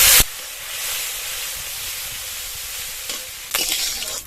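Neem leaf paste hits hot mustard oil with whole cumin and dried red chilli, setting off a loud, close burst of sizzling and hissing that eases to a steady fry before flaring again.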